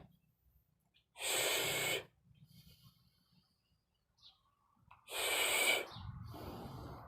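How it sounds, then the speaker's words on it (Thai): Two loud, forceful breaths, a sharp hissing inhale and exhale, are taken close to the mic during a dumbbell biceps curl, separated by a few seconds of quiet with faint movement. "หายใจ หายใจเข้าก่อนนะ"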